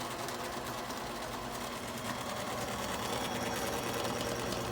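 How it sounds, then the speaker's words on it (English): An electric mixer runs steadily while mixing vanilla cake batter, a constant quiet whirring hum with no pauses or change in speed. "Now I'm going to add half of my milk as I've got my mixer running."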